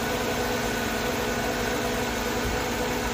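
A Honda Odyssey engine with a non-charging alternator runs on a jump starter, a constant, even idling hum and vibration held close throughout with no talk.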